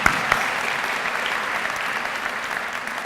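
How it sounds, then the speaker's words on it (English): Steady applause from a large audience at a journalism school's fall convocation, dense and even for a few seconds with no one speaking over it. "I think that deserves applause"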